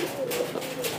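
Domestic pigeons raised from squabs in a home loft coo softly in low, repeated throaty notes over a steady hiss of background noise, with no talk.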